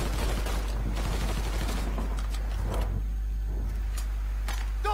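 Gunfire during a car chase in Mafia 3, with bursts of shots crackling over a constant engine rumble and traffic noise, and no talking.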